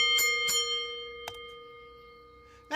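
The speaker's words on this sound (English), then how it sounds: "I will ring the bell and get this started" Bell rung to open a wrestling show: two bright strikes in quick succession, then a third, each leaving a long ringing tone that fades slowly.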